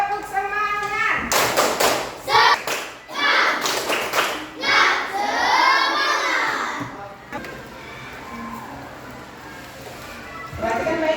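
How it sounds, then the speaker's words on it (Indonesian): A primary school class performs a rhythmic cheer clap, bursts of patterned clapping and thumps mixed with children's chanting voices, loud and close, fading into quieter classroom murmur. "coba tepuk semangat"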